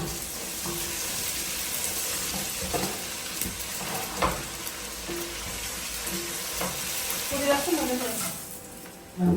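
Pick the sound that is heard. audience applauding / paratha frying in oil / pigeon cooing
paratha frying in oil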